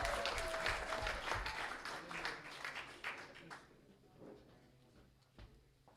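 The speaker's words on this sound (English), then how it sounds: "So let's clap up for those 2 chapters" A small audience claps for two recognized chapters at a live meeting, a quiet, fairly dense patter that thins and fades over several seconds, leaving a few scattered claps at the end.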